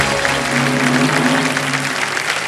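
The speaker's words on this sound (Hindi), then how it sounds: "ताली बज गई है।" A studio audience on the quiz show Kaun Banega Crorepati bursts into loud, sustained applause, steady clapping close and dense throughout, with a faint tonal hum underneath.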